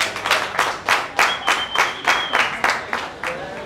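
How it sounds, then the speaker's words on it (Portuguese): An audience applauds a performer called to the stage at a rap show, with rhythmic clapping in steady, evenly spaced bursts, loud and close, alongside a brief whistle. "Para continuar a brilhar o Mente Mágica, eu chamo no palco com aplausos o Diego Costa."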